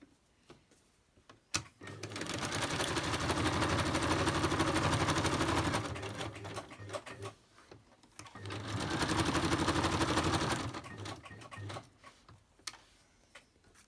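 Close by, a sewing machine runs a zigzag stitch around a fabric photo folder in two steady humming bursts of several seconds each, with quiet handling noises before, between and after.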